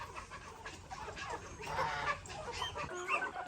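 Chickens clucking on a farm with geese nearby, busy overlapping clucks and squawks close by, louder in the middle of the stretch.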